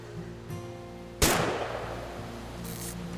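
A single sharp gunshot rings out in the video game What Remains of Edith Finch. The crack is close and loud, with a fading tail, over a quiet low ambient hum.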